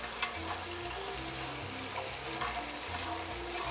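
Carrots, celery and a whole onion sizzle in a soup pot, a steady low frying hiss running throughout at moderate level with faint stirring clicks, no talk.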